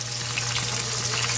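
Garlic, onion and ginger sauté with tomatoes in a pan, a steady, close frying sizzle with an oily crackle and a low hum running beneath, continuous and even throughout.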